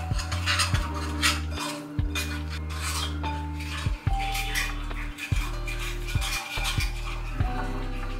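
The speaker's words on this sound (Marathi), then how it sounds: "दही ऍड करून त्यात थोडंसं लिंबू पिळून चवीनुसार मीठ टाकून याला छान एकदा मिक्स करून घ्यायचं" Paneer biryani marinade of curd, squeezed lemon and salt gets mixed in a bowl, with repeated scraping and clinking of a spoon against the dish over faint background music.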